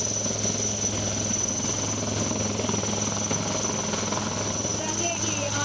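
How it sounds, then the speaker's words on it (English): An Indian Air Force Advanced Light Helicopter gives off a steady, continuous rotor and engine drone that holds at an even level throughout. "forces steadily moving towards the advanced light helicopter."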